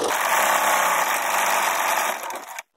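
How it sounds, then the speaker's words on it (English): A sewing machine runs a zigzag stitch over twill tape and elastic for a clear-window face mask, giving a steady, close mechanical whirring hum that continues evenly for over two seconds and then stops abruptly. "I can zigzag the twill tape down and the elastic down all in one."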